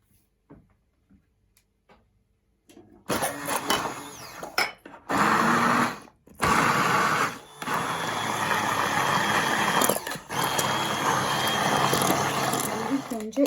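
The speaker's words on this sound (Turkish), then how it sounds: "Şimdi bunu da blenderdan çekip güzelce püre haline getireceğim." A kitchen blender purees cooked chestnuts, its motor whirring loudly and close in bursts separated by short pauses after a quiet start.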